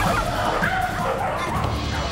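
A household of twelve dogs making a busy din, with overlapping barks, yips and whimpers running steadily and fairly loud throughout, with no clear talk.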